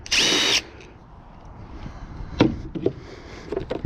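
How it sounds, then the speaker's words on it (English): Power drill working plastic casing off a fan: one short, loud whir, then scattered knocks and plastic clatter. "I'm getting these plastic casing off of this fan because it's getting on my nerves just because."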